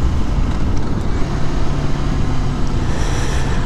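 Mondial SMX 125i motorcycle riding along a road through a slow zone, its steady engine drone and low hum continuous with broadband wind rush, no voices.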